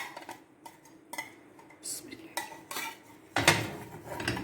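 Spanish potato omelette turned over in a pan with the flame off, scattered clatters and knocks of the pan and utensils, ending in a louder burst of clattering handling, close with no talk.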